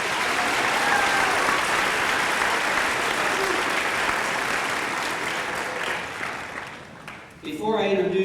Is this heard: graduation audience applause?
yes